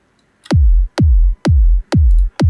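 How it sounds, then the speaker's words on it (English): Five punchy synthesized EDM top kick drum hits play alone at an even, steady pace, each one loud and close with a sharp click that drops into a short booming tail. "with the top kick that sounds like this"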